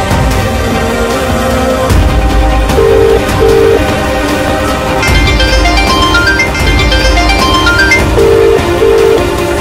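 A phone's outgoing call tone rings in short repeated beeps, recurring in two pairs against loud background music, with no talk.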